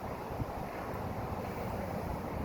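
Wind picks up outdoors, a dense, continuous roar that buffets the microphone at a steady level, with no voices over it.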